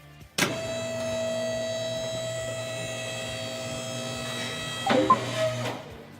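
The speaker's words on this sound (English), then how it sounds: "Lift the car to the highest position." A car lift in the Car Mechanic Simulator video game raises a car with a steady, loud electric motor whine that holds evenly for several seconds, then ends with a short clunk and rattle as it stops.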